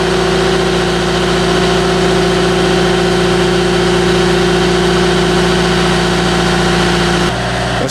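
A large RC Caterpillar 242D skid steer idles with a warmed-up engine, giving a loud, close, continuous drone with a steady low hum and vibration. It cuts off abruptly near the end.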